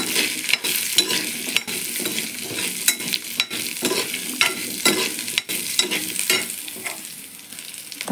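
Spatula stirring and sautéing in hot oil in a pan while cooking kudal kuzhambu, a Tamil goat intestine curry; continuous frying sizzle with repeated scraping strokes, close and steady, no talk.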